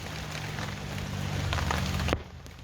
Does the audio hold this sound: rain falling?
yes